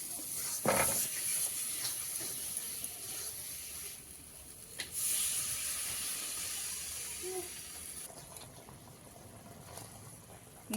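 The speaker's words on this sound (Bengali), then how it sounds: "গ্রেভিটা ফুটে উঠেছে সুন্দর" Biryani gravy with milk, cumin and chilli comes to a boil in a pan, giving off a soft, steady hiss with a few brief louder bursts.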